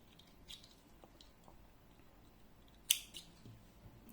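Scissors snip through crochet yarn in a quiet room, with one crisp, close cut standing out after a few faint handling sounds.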